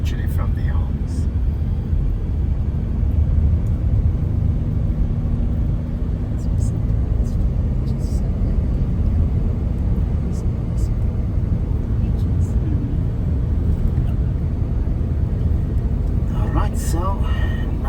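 A car drives along the coast road in Cape Town between the Atlantic and the Twelve Apostles mountains, giving a steady low road rumble throughout with a voice talking over it.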